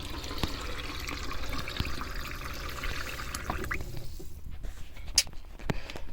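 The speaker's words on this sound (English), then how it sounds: "I got in the sink, some water in there, some hot water." Hot water runs into a kitchen sink in a steady splashing stream that eases off toward the end, leaving a few drips and clinks.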